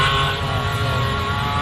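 A trophy truck racing engine in the St George 399 prologue, a loud sustained roar with a dense engine drone close by, steady across the short burst with no talk.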